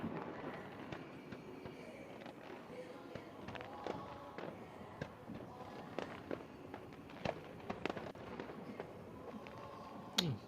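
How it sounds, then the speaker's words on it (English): New Year fireworks going off outdoors, with scattered sharp bangs and crackles at irregular intervals over a quiet background, fairly distant and faint overall, with a few louder pops near the end. "his fireworks are going up"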